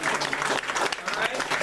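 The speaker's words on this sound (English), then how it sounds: "Let us give ourselves a round of applause for just being here." An audience at a 2015 book launch applauds, dense close clapping throughout with scattered voices and cheers mixed in.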